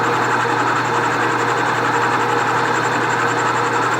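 A machine cuts cast iron on a John Deere 820 tractor part, giving a steady, close, even mechanical hum with a constant tone throughout and no talking.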